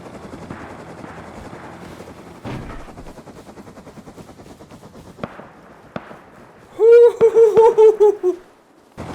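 A helicopter in the survival video game Rust: a rhythmic rotor chop thumping steadily, swelling into loud, bursting pulses near the end, with sharp impact cracks scattered throughout.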